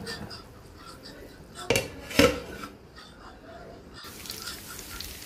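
A utensil clinks and scrapes against a pot as cooking beef is stirred, with two sharper metallic knocks in the middle and a low simmering background.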